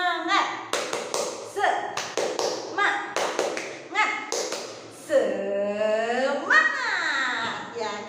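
Children clapping through the 'tepuk semangat' routine in a home-learning lesson: a series of sharp, rhythmic clap bursts in the first five seconds, with a voice and children's voices chanting along and then speaking over it.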